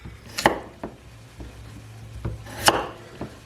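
A Condor Mountaineer Trail knife cuts potatoes into smaller pieces for mashing, giving two sharp, close chops with a few softer knocks of the blade on the board between them, heard alone.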